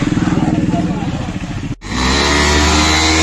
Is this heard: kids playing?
no